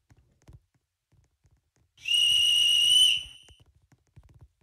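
A referee at a rugby league grand final between Canterbury-Bankstown and South Sydney blows a whistle: one sharp, steady, shrill blast about a second long. It stands out clearly over faint background thumps.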